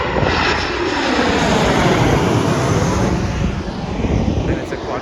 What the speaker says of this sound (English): The plane actually flies right above me